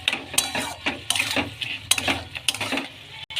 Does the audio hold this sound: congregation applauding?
no